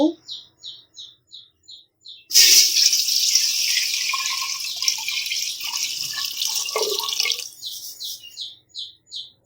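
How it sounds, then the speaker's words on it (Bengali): Water for cooking rice runs into a pot in a loud, steady gush for about five seconds, with rhythmic bird chirps heard before and after it. "আমি এখন চাউলটা রান্না করার জন্য একটি হাঁড়ির মধ্যে পর্যাপ্ত পরিমাণ পানি দিয়ে দিব"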